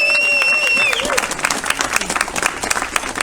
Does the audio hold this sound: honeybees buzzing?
no